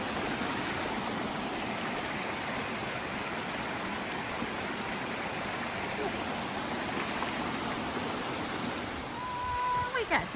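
Steady rushing of water tumbling over a small cascade in a stream on the Appalachian Trail, continuous and close, with a faint tonal blip near the end.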